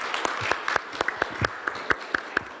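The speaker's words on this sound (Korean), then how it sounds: "박수로 환영해 주시기 바랍니다." Sparse, rhythmic clapping from a small audience at the 2022 Jeju Forum welcoming a presenter: distinct individual claps spaced at an even beat, fairly close and clear.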